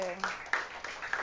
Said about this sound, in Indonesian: Bagi tepukan untuk kawan-kawan kita.